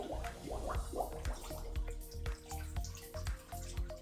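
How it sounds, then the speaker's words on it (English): Warm tap water runs and drips into a sink as it fills, with close, irregular splashes and droplet patters heard alone. "I'm going to start with running warm water, not hot, not cold, just warm water to fill up the sink"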